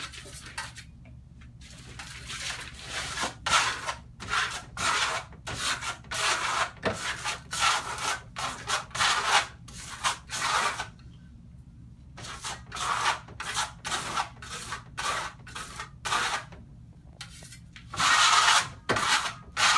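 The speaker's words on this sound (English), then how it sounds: "come back and burnish it with your burnishing trowel" A stainless steel trowel burnishing marmorino plaster: rhythmic rubbing strokes, close and clear, in repeated bursts separated by short pauses, with no talking.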